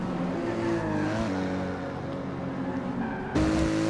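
Race cars on track at Lime Rock Park in Forza Motorsport 6 roar with sustained engine tones that shift pitch through gear changes, and a louder engine cuts in near the end, with no talking.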